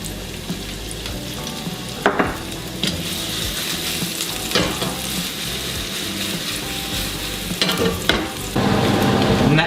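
Chopped onion sizzling in olive oil over medium heat, a loud continuous crackling hiss close by, with a few sharp spatula scrapes and a surge in intensity at the end.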